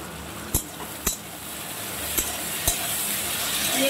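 Potatoes with salt stirred in a frying pan, a faint steady sizzle under a few sharp clinks of a spoon against the pan.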